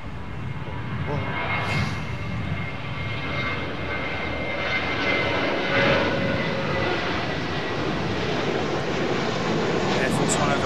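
An aircraft known as the Doomsday Plane passes over London Heathrow Airport, a broad continuous engine roar that holds steady from start to finish, with faint wind noise behind it.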